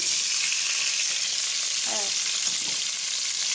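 Spring onion and garlic sizzle steadily in a hot pan, a dense continuous frying hiss with a brief stir partway through.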